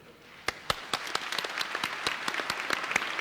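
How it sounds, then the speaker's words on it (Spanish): Warm applause from a church congregation in the Archdiocese of Buenos Aires welcoming its new archbishop at his installation, starting with a few sharp claps and swelling into steady, dense clapping throughout. "Con un caluroso aplauso, el pueblo de Dios de la Arquidiócesis de Buenos Aires recibe en este momento a su nuevo arzobispo."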